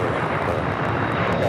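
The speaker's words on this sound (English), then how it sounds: "The second Air Tahiti Nui Dreamliner coming in from Pompeii, just arriving here on the south side." Air Tahiti Nui Boeing 787 Dreamliner arriving on the south side at LAX, a steady broadband jet roar at moderate distance holding level for the brief moment.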